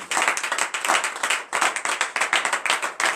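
A congregation at a morning prayer service in Benin claps together in acclamation, a steady rhythmic pattern of sharp hand claps in short bursts, close and clear with no talking over it.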